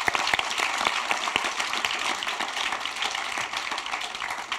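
A crowd applauding the panelists at the close of a roundtable discussion on humanitarian work and populism, dense sustained clapping filling the room at steady volume throughout.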